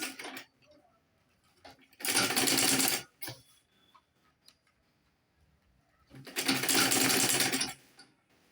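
Sewing machine top stitching a ladies' shoulder bag, two sustained loud whirring runs of about a second and two seconds separated by quiet handling, with faint pigeon cooing in the background.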